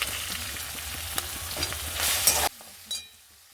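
Prawns frying in a pan with ginger paste, poppy seed paste and melon seed paste, a steady close sizzle with scraping stirs, then an abrupt drop to a faint hiss.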